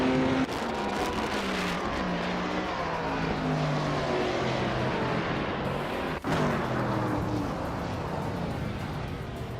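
Race cars roar continuously through a racing video game, among them a 1970 Chaparral 2J with its ground-effect fan system, engines droning and shifting pitch at steady high volume with a brief dropout midway.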